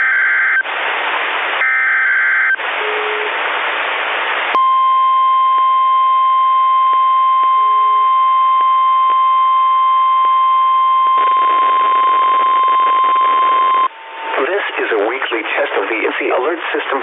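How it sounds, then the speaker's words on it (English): A National Weather Service radio warning alarm tone test: harsh warbling data bursts, then a long, steady, single-pitched alarm tone lasting about nine seconds, followed by a voice speaking over the broadcast. "this has only been a test of the National Weather Service's radio warning alarm tone"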